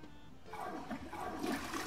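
A toilet flushing in the video game Who's Your Daddy, a steady watery rush that swells and churns for about two seconds, moderately loud with no voices over it.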